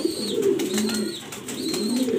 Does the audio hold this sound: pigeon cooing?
yes